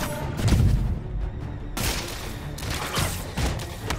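Gunfire and booming impacts crash through a Marvel's Spider-Man video game fight, heavy and dense with a short lull before the barrage resumes.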